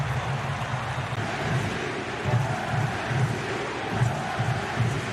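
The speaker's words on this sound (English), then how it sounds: "Crowd serenades Acosta as he swings in the corner" A large football stadium crowd at a US Open Cup semifinal between FC Cincinnati and Inter Miami sings and cheers in a steady roar, with rhythmic pulsing chants rising and falling throughout, distant and continuous.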